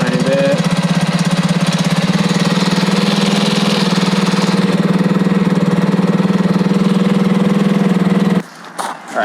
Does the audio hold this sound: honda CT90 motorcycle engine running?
yes